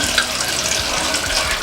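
Water running steadily from a newly connected kitchen tap into a sink, a continuous close splashing hiss with no break.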